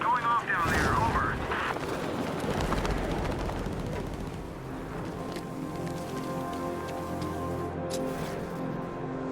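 Steady rain falls in Batman: Arkham Knight, a dense hiss of drops on surfaces running throughout, with voices and bursts of game sound over it early on before the rain carries on under a low musical drone.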